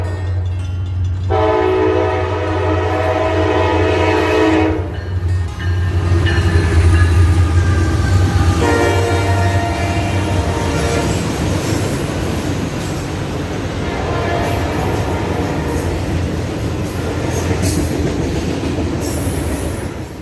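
A Norfolk Southern SD60E diesel locomotive, unit 6952, rolls past loud and close with steady engine rumble, a long sustained horn blast early on, and rail car clatter continuing throughout.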